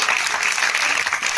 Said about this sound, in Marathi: सो आपल्यासाठी जोरदार टाळ्या वाजवल्यात